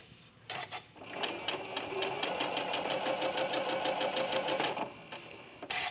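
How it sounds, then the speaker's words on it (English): A domestic sewing machine stitches fabric, its presser foot pressure set to grip the cloth as it feeds. A steady, fairly loud whirring run with quick rhythmic needle pulses lasts about four seconds before stopping, with brief mechanical clicks at either end. "So we'll start sewing and we'll see how our pressure is"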